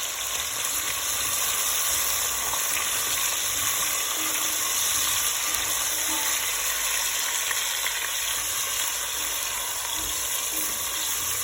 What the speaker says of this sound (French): Là, je viens ajouter de la tomate concentrée.